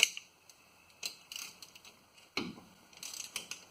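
Ratchet on a 3-inch socket extension turning a bolt on a 1997 Chevy 1500 5.7 truck, heard as bursts of rapid metallic clicking separated by pauses, close and fairly quiet, with a short clunk partway through.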